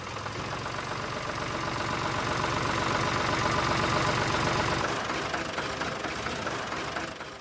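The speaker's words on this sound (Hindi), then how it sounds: "पापा, आपने ट्रैक्टर की आवाज की तरफ ध्यान दिया? कुछ अजीब सी आवाज हो रही है" A tractor engine idles with a steady, rough mechanical drone and an odd knocking running underneath, continuous and fairly loud, with no one speaking.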